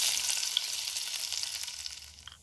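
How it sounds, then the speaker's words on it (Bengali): Asafoetida and chili flakes sizzle in a little hot refined oil in a kadai, a steady, close crackling hiss with small pops that tapers slightly toward the end. "অল্প পরিমাণে রিফাইন অয়েল, অল্প একটুখানি হিং ফোড়ন দিলাম"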